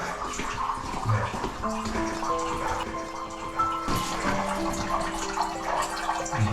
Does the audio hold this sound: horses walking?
no